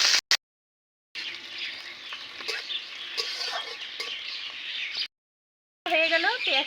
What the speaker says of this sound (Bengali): এবারে দিয়ে দেব পেঁয়াজ কুচি। নেড়ে চেড়ে লাল লাল করে ভেজে নেব।